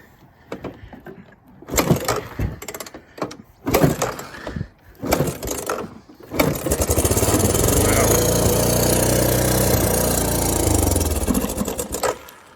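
A Honda parts bike, either a 200ES or a TRX 250, is cranked in several sputtering attempts before its small engine catches and runs steadily and loudly, then cuts off near the end.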